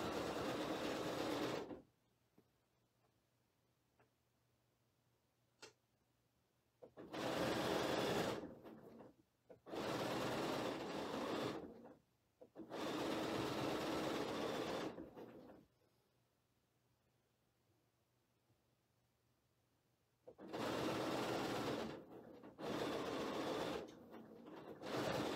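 A sewing machine stitches quilt star pieces in several loud, steady bursts of rapid mechanical whirring, each lasting a few seconds, separated by quiet pauses.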